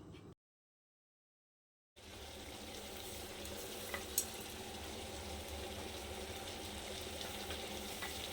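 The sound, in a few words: chicken frying in a pan with turmeric and salt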